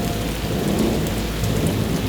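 Heavy rain pours steadily onto surfaces while thunder rolls and rumbles underneath, a loud, dense storm roar with no speech over it.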